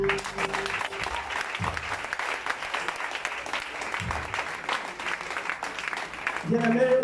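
A church congregation claps and cheers in sustained, dense applause, with voices calling out through it before the noise settles into music near the end.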